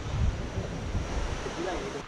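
Water runs through a forest stream at Mandagala, Sri Lanka, as a steady, close, broadband rush with a wind-like hiss, continuous for the whole stretch and with no voices.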